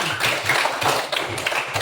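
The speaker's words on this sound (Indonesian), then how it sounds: "tepuk tangan." Students clapping in a classroom, a short burst of fairly quick, close hand claps with an uneven rhythm and no talk over it.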